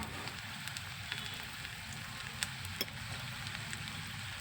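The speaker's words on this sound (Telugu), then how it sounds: "కస్తూరి మెంతి, కొత్తిమీర వేసుకొని ఇప్పుడు ఫ్రై చేసుకోవాలి." Fish eggs fry in a pan with kasuri methi and coriander, a faint, steady crackling sizzle with a few small pops.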